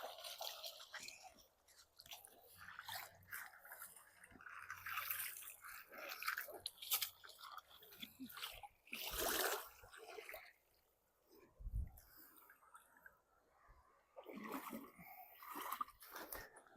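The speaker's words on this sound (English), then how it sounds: "and so I'm just going to rinse them off in the river." Freshly harvested cattail and rush leaves are swished and rinsed in a river, giving irregular splashing, dripping and rustling water sounds that rise and fall, fairly close.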